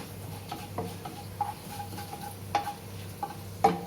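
Dry red chillies frying in a pan while making jeera brown rice with kadi pakoras, with soft clicks and stirring scrapes over a faint steady sizzle, close and quiet, no talking.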